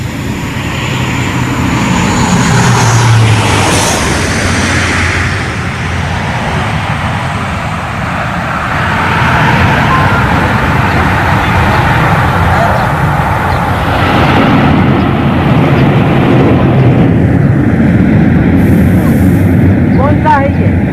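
Loud roaring engines of a C-130 Super Hercules military cargo plane landing on a national highway in Barmer, a sustained propeller drone that swells and fades over about twenty seconds.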